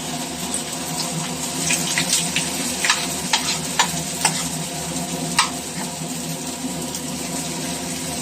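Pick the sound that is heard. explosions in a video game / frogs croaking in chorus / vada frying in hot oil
vada frying in hot oil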